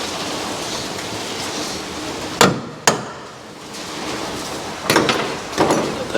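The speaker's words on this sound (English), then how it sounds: "Pass me that hammer there." A few sharp metallic hammer strikes on rusty brake parts of a Chevrolet Nova ring out, two close together and then a couple more, over a faint background hum.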